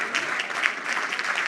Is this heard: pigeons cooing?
no